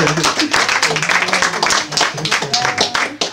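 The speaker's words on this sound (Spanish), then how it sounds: "un aplauso, quieren un aplauso" An audience at an evangelical question-and-answer gathering claps in scattered, uneven applause, near and moderately loud, with voices mixed in.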